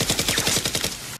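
Nerf blasters firing in a Nerf war, a rapid string of about a dozen evenly spaced automatic clacking shots over one second, close and loud, then stopping abruptly, with no talking.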